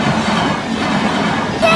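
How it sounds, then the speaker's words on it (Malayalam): A train passes a railway crossing with a loud, close, continuous rumble and rattle of wagons, and a brief squeal near the end. "അവസാനം ട്രെയിൻ പോണവരെ വെയിറ്റ് ചെയ്യേണ്ടി വന്നു."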